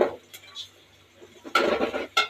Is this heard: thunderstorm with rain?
no